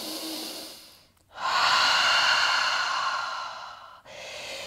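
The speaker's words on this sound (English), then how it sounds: "Deep breath." During a slow-flow yoga session a person draws one long, deep breath, a soft close airy rush that swells and fades, with quieter breaths before and after.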